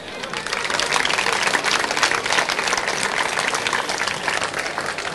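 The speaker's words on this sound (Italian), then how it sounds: "Il primo applauso va a Katia Zanette per Motorsport BMW." A crowd at an outdoor summer sports event in San Vendemiano applauds steadily, a dense, continuous wash of clapping from many hands that holds at an even level throughout.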